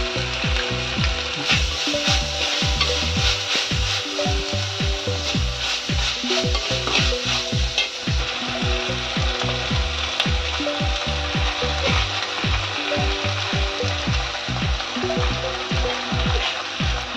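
Rice being stir-fried with schezwan chutney in a pan, a steady sizzle under dense, rapid scraping and clacking of a spatula working the pan, loud and continuous throughout.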